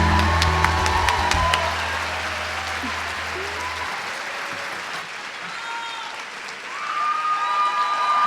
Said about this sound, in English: can we give her another warm round of applause?